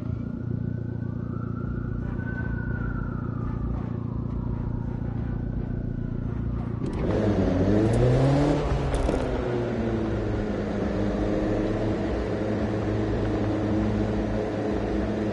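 Classic cars racing on a closed course in a PS4 racing game, engines droning steadily with a sharp rise in revving and mechanical rattling partway through, then a continued rumbling engine roar.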